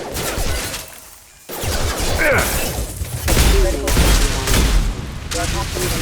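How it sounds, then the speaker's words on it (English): Mass Effect 2 gunfire: loud bursts of shots and booms in several clusters, with a short quiet gap, mixed with mechanical clatter and speech over the firing. "He's gunning down his own crew to keep control?"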